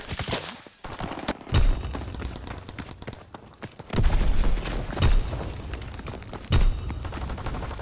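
Mortar rounds exploding in Call of Duty: WWII on the London Docks map, with several heavy booms landing at irregular intervals over continuous battle noise.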